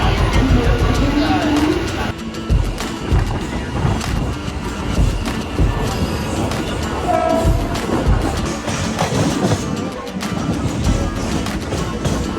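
A train at Bandra railway station in Mumbai rumbles and clatters over the tracks with loud, continuous rolling and rhythmic clacking, while a horn sounds and a crowd of voices chatters through the busy platform din.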